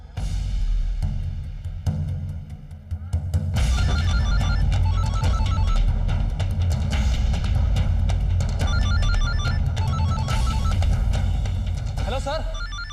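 A mobile phone rings with a repeating electronic ringtone pattern over steady background music and ambience, loud and close, during a scene set in a courtroom waiting area.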